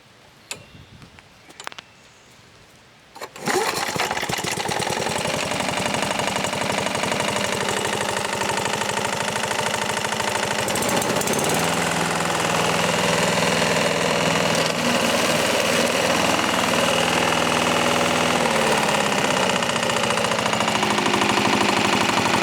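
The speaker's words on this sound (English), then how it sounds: "So there it is, the Honda HRM21 mower from Mars." A Honda HRM21 lawn mower engine starts after about three seconds of quiet clicks and then runs at a steady, loud, close drone. It keeps a continuous mechanical rattle with a slight change in pitch partway through, and no one speaks.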